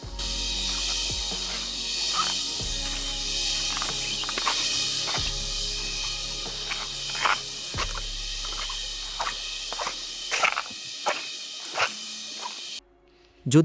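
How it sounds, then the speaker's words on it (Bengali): Crickets and other insects chirp steadily in a hill forest, a dense continuous high-pitched drone with scattered clicks and faint footsteps and rustles close by. "আশেপাশে প্রচুর ঝিঝি পোকার শব্দ শুনতে পাবেন একটু শুনুন"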